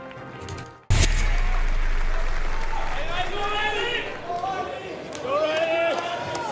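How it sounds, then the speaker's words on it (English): A loud arena crowd roars and cheers after a sudden thump, with whistles and shouts rising over the sustained noise. "you can hear the crowd into it here"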